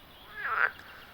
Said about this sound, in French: Écoute bien le croassement de la grenouille.